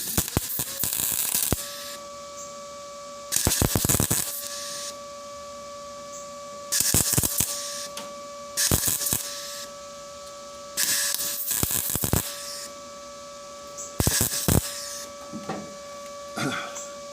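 Bursts of tack welding crackle and buzz on the inner trunk corner of a 1957 Chevy, several loud spurts separated by quieter gaps with a steady hum from the welding gear, and someone talks in between.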